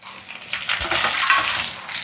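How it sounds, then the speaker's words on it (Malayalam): Thinly sliced rounds of okra hitting hot coconut oil with onions and chillies, a steady close sizzle that swells after the first moment and holds, with faint stirring clinks and no talk. "ആ സമയത്ത് നമുക്കിതാ വെണ്ടക്കായ ഇട്ട് കൊടുക്കാം കേട്ടോ."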